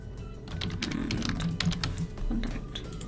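Computer keyboard typed on at close range, a quick irregular run of light plastic key clicks that continues for about three seconds with no voices.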